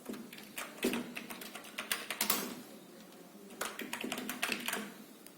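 Keys tapped on a computer keyboard while typing text in a word processor: irregular bursts of clicks, fairly close and moderately quiet, with short pauses between runs.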